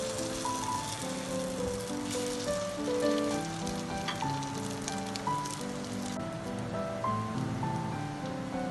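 Beef resha shami kababs fry steadily in a pan with a constant, moderate sizzle and spatter, like rain on a surface, under soft background music.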